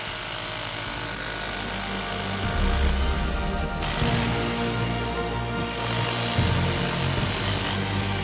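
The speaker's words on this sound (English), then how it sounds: "The panel can even handle the demolition hammer." Loud, continuous rapid hammering of a demolition hammer running off a homemade 3000 W solar panel power setup, pounding steadily with slight surges in intensity, close by and without talk.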